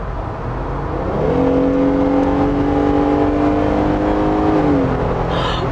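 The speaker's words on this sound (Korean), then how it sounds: "지금 제가 고속으로 주행을 하고 있는데 살짝 밟아볼게요" A Jeep Gladiator's large-displacement, naturally aspirated engine, heard from inside the cabin, climbs steadily in pitch as the truck accelerates at highway speed toward about 6000 rpm, then drops as it shifts, with a constant loud drone of road and wind noise.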